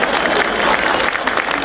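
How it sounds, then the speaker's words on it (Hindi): A crowd at a gathering claps steadily and loudly in a brief, dense burst of applause, with voices mixed in. "भाई ताली थोड़ी सी जोरदार कर दो"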